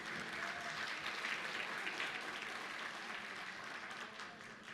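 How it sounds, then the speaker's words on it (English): Loud, sustained applause from a large conference audience at a 2023 anniversary event, steady clapping filling the room throughout. "So that's an incredible big round of applause"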